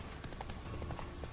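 A horse's hooves clip-clopping in The Witcher 3: Wild Hunt, quick, even strikes in a steady trot, near and moderately loud.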